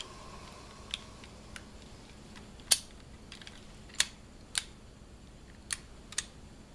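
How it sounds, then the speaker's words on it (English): A 1911 pistol slide is slid back onto its frame, heard as a sparse series of sharp, crisp metallic clicks spaced about a second apart over a quiet background, with no voices. "Go ahead and reinstall our slide onto our frame."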